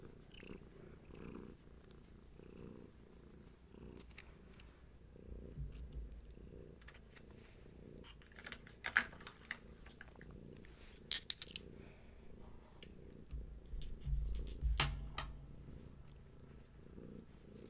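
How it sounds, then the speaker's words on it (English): Soft, steady cat purring close by, a low rumbling rhythm throughout, with occasional faint clicks and rustles over it. "I know you hear her purring."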